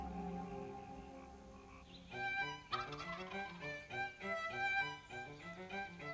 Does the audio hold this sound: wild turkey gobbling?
yes